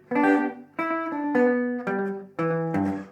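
A clean electric guitar plays a short bouncy rockabilly riff of plucked notes, each phrase opening with a quick raked strum across the strings.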